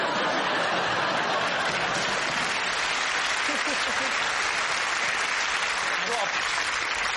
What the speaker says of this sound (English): The applause begs to differ.